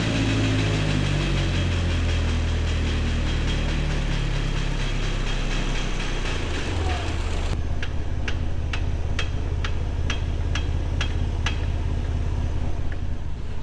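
Turbocharged Datsun with a KA24DE engine running in fourth gear on a lift with a failing rear differential, a loud continuous drivetrain drone, then a rhythmic ticking knock repeating steadily over the hum.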